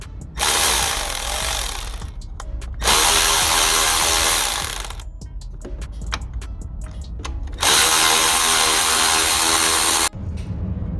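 A power tool spins out E12 Torx bolts from the clutch linkage of a Nissan Qashqai, loud whirring bursts in three long runs separated by short ratcheting clicks and quieter gaps, close up.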